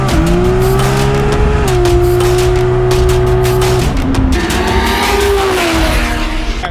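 A tuned Nissan R33 GTST with a large turbo screams on a dyno, its loud engine note holding at full load, dipping briefly with a gear or throttle change, then climbing again in a sustained rev.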